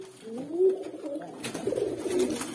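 Pigeons in a breeding loft give steady, close, throaty cooing in overlapping low rolling phrases, with soft fluttering and background rustle.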